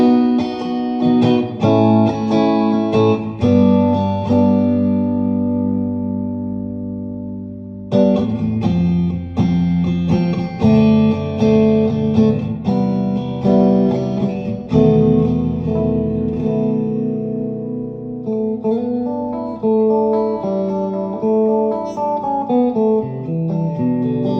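Guitar played through an Electro-Harmonix Oceans 3-Verb pedal in spring reverb mode with the level turned to noon: strummed chords and picked notes ring out with a lingering tail, then a rising arpeggiated run, loud with no voices.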